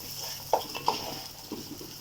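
Whole spices for a homemade degi garam masala frying in oil: a faint, soft sizzle with a couple of quick scrapes and taps of a stirring spoon in the pan.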